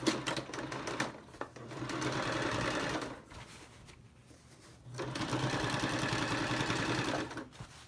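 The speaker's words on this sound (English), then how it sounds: "what I'm doing is just kind of pressing the fabric apart as I sew" A sewing machine stitching two pieces of fabric together, heard as two quiet runs of rapid, even mechanical chatter separated by a short pause.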